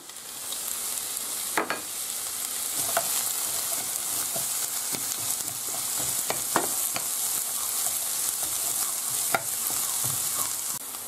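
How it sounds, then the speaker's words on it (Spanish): Leek and garlic clove sautéing in a pan, a steady close sizzle with occasional utensil scrapes and clicks as the pieces are stirred, no voices. "el puerro y el diente de ajo. Y lo tenemos que rehogar."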